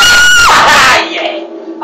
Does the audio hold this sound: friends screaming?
yes